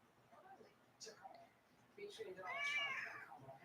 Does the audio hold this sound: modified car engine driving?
no